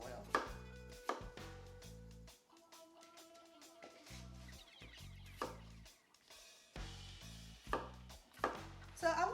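A knife chops a potato into chunks on a cutting board. Close, crisp knocks land in irregular bursts of repeated cuts, separated by short pauses.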